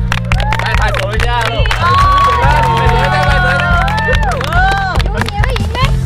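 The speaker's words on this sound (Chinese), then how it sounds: "来拍手一下！" An audience at an outdoor live game show in Northern Malaysia claps and cheers loudly, with excited shouts and crowd babble layered over the clapping throughout.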